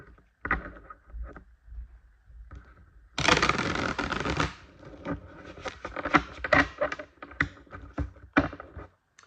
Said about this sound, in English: so I'm already after shuffling the cards, so I'm just going to shuffle them once more.